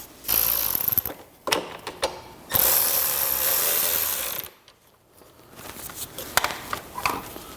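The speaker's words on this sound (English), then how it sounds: "So I'm going to put our bolts back in the side of our fuse panel." Ratchet clicking as bolts are driven back into the side of a Harley-Davidson motorcycle's fuse panel, heard in close, loud bursts of rapid pawl clicks separated by short pauses.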